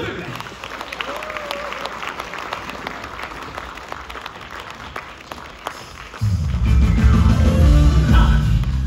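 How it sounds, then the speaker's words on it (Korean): Audience applause at a healing concert at Sowol Art Hall for a singer: a dense wash of many hands clapping, steady and moderately loud, swelling sharply near the end as a low music or crowd rumble joins. "큰 박수 부탁드립니다."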